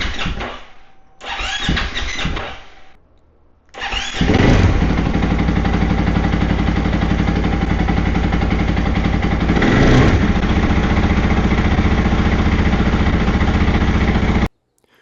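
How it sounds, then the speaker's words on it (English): A motorcycle, fitted with a GET ECU, cranks with short bursts of the starter, then fires and settles into a loud, steady idle that runs unbroken close by until it cuts off abruptly at the end. "Let's put the seat back on and see if it runs. Let's turn it on."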